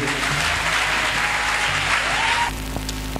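A church congregation claps loudly and steadily together during worship, dense applause filling the space, then easing slightly near the end as a voice briefly speaks.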